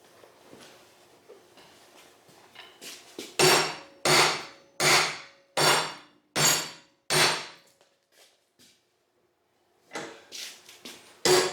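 A hammer strikes a poor weld made with an Excellway 200A inverter welder to break it apart, giving six evenly spaced sharp metallic bangs in a row, then quieter knocks and more taps after a pause.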